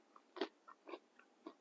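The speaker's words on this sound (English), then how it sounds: "I'm sure you can hear the crunching." Crisp crunching bites into cheesy zucchini tots, a few quick close crackles spaced across a moment, quiet and alone.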